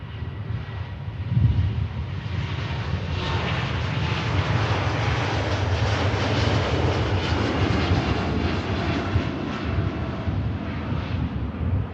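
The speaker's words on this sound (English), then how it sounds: "Off goes the Indigo Dreamliner." An IndiGo Boeing 787 Dreamliner taking off at Manchester Airport, a loud sustained jet engine roar that swells and holds for the whole stretch, heard from outside with some wind buffeting.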